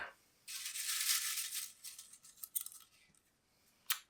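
A hand rummages through paper slips inside a jar of books waiting to be read and pulls one out, a close crisp rustling burst followed by scattered crinkles and a final sharp rustle.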